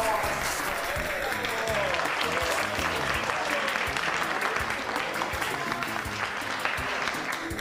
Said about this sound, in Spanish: Les pido un aplauso para la mejor cocinera de todo el país.